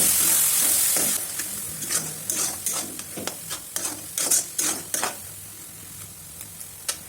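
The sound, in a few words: onion paste frying in a pan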